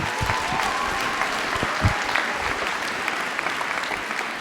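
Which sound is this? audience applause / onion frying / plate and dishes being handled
audience applause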